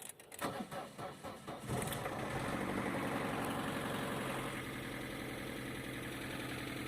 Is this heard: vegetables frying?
no